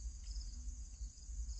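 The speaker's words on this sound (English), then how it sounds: "I didn't know the purpose of the cicada or the cricket for at night." Crickets or cicadas chirp at night in a steady high-pitched trill that holds constant throughout, fairly faint, over a low rumbling background and with no voices.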